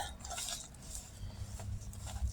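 Soft butter and icing sugar being stirred into a paste in a bowl, with quiet scraping and clinking of utensil against the dish, close and low in volume, steady throughout with no talking.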